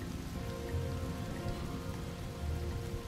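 Steady rain patters down in the Desperados 3 video game, a dense, even hiss of drops on surfaces with a faint low rumble beneath.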